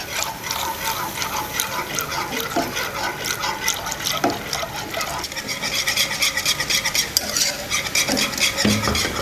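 Milk stirred into cooked flour in a pot for béchamel sauce, a continuous wet swirling and sloshing with liquid pouring in, steady and close throughout with occasional soft knocks of the utensil.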